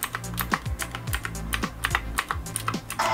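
Someone types on an Arealer Roarer 104 RGB mechanical keyboard, producing a close, steady patter of crisp clicky keystrokes with no talking.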